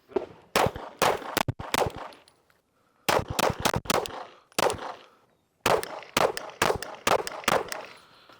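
Rifle fitted with a recoil reduction system fired outdoors in three quick strings of about five loud, sharp shots each, separated by short pauses, with no talk over them.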